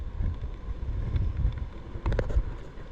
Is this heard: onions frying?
no